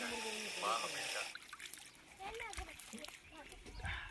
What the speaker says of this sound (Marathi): आता झाडांसाठी पाणी मारतो